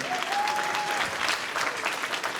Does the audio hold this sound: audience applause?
yes